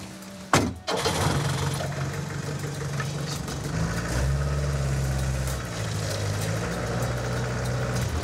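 An old Land Rover 4x4 pick-up on a seaside track cranks with a sharp burst, catches, and settles into a steady mid-pitched running drone that swells slightly midway.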